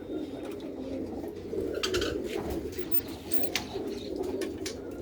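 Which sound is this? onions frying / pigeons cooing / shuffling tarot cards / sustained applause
pigeons cooing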